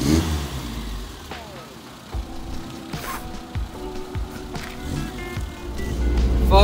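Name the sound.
Nissan 1400 bakkie engine revving while driving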